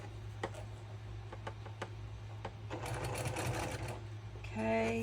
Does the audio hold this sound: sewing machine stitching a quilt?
yes